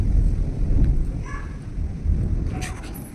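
Thunder rumbling low and continuous during a storm, a deep rolling background with some wind and rain noise and a few faint higher sounds, without clear talk over it.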